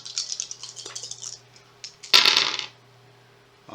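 Five dice rolled together for an Oni Warlord attack in a Shadows of Brimstone tabletop game, a quick burst of clattering ticks, then a louder tumbling rattle as they scatter and settle, close and alone with no talk.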